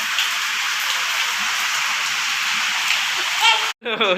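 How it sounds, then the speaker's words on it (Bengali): Heavy rain pours down during a sunshower, making a dense, even roar of drops on surfaces throughout. Near the end the rain cuts out briefly and a voice is heard. "রোদ রোদ ভাবও উঠছে বৃষ্টিটা জোরে হচ্ছে আবার রোদও উঠেছে"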